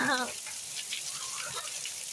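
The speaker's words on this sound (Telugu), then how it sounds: "మళ్ళీ వర్షం పడుతుంది" Rain falling outdoors, a steady, even hiss of drops that holds at a moderate level throughout, with a brief voice-like sound at the very start.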